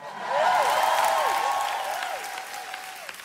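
A large audience at a motivational seminar breaks into loud applause mixed with high-pitched cheers and whoops, swelling quickly and then slowly tapering off.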